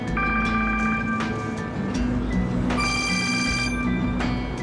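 A telephone rings in a repeating electronic pattern of short bursts separated by brief gaps, fairly clear against a low background hum.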